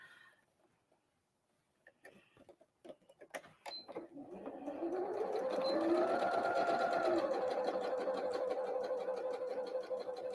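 A sewing machine stitching Christmas tree napkins starts after a few faint clicks and taps, then runs steadily with a strained, whirring hum as the thread pulls tight, close and fairly loud.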